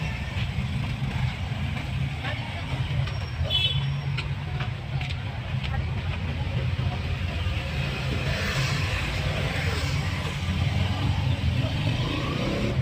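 Jeepneys rumble along a busy road, a steady low engine drone of passing vehicles with occasional revving, with voices faintly mixed into the traffic noise.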